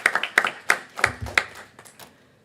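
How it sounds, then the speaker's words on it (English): Scattered clapping from a small audience at a town council meeting, a few distinct claps in loose rhythm near the start that thin out and fade within a couple of seconds. "Let's go ahead and clap that up."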